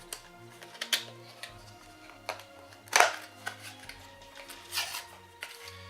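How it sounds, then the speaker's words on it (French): Soft, scattered ticks, clicks and rustles of packaging as a New Nintendo 3DS XL Hyrule Edition console is unboxed, with a sharper crinkle near the middle. All of it is quiet and close, with no talking. "Alors donc on va commencer par déballer cette console."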